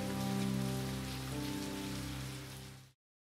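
Steady rain falls on a surface for about three seconds under a low droning tone, then cuts off abruptly into silence.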